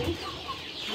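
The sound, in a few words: ayam kampung sentul chickens clucking at feeding time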